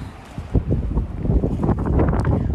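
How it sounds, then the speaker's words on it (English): Strong wind on a Pacific Crest Trail campsite buffets the microphone with low, gusty rumbling that rises and falls in waves, loud and close, with no one talking. "you can hear how windy it is."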